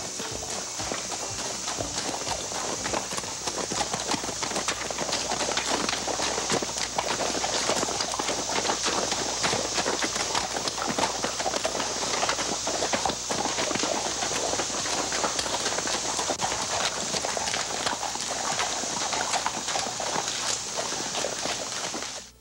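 Horses clip-clop steadily along a forest trail ride in the Smoky Mountains, a dense continuous patter of hooves under a constant bright hiss of outdoor ambience, with faint bird calls mixed in.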